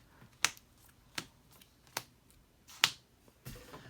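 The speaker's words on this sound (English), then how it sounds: "you're going to give them a shuffle" Sharp, crisp snaps of playing cards being shuffled in a loose rhythm, about five distinct bursts, close and fairly quiet with silence between.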